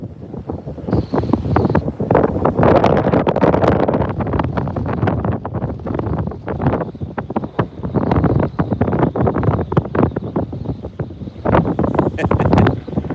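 Strong gusts buffet a phone microphone at sea during a tropical storm, rumbling bursts of wind noise rising and falling.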